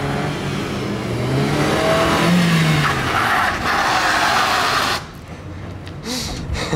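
A car skids through a failed drift attempt, its tires scrubbing and its engine droning loudly for about five seconds before the noise abruptly drops away.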